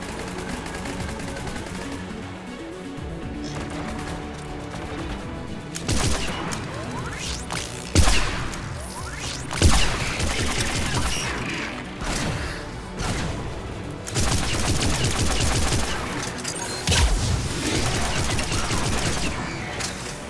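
Gunfire from a chargeable weapon fired in rapid-fire mode during Mass Effect 3 combat, with bursts of shots and impacts, loudest in clusters around the middle and latter part, over game sound effects.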